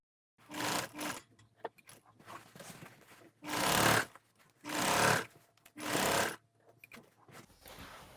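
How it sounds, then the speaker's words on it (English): A sewing machine stitches around the top edge of a tote bag in three or four loud, steady bursts of a second or so each, separated by short pauses and softer handling noises. "And then after that, you're gonna sew."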